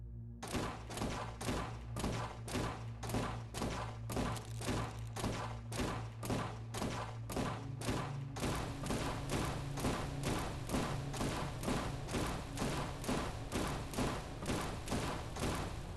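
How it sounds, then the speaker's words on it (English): Akimbo revolvers firing in a video game: rapid, evenly spaced loud shots ring out back to back for the whole stretch, with the cadence tightening and growing denser partway through. "Then we have the Akimbo revolvers."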